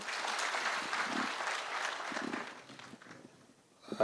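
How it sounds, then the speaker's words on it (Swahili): A crowd at a public security forum applauds its leaders in a sustained burst of clapping that tapers off toward the end, with no talking. "Tupigie makofi viongozi wetu."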